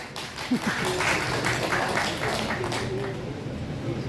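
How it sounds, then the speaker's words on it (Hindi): An audience at a Dalit Indian Chamber of Commerce and Industry event claps in steady applause, a continuous moderate wash of hands that fades slightly toward the end. "ताली बजाओ।"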